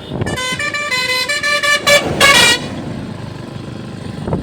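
A loud, close pickup truck horn blares in several long honks, steady and brassy, then fades into engine and road noise.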